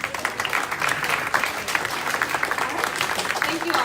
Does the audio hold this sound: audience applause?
yes